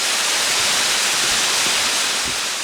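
Waterfall deep in a mountain valley in Geumsan, Chungnam, a loud, steady rushing roar of falling water that fills the whole stretch without a break.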